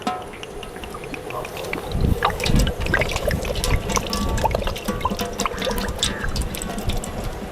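Cooking oil pours into a pan for chicken Maggi noodles, a steady liquid splash and trickle running throughout with a louder surge near the middle, close and fairly loud.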